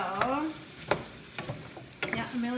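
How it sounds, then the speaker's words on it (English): Melted butter sizzles softly in a pan while making apple pie, a faint frying hiss beneath children's and adult voices talking nearby. "It's starting to sizzle now. All the butter's melted."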